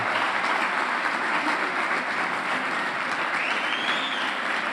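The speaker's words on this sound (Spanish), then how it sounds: "Dale un aplauso al Señor." A congregation applauds during a church sermon, with a dense, sustained wash of clapping from many hands that stays loud and steady throughout, no voices standing out.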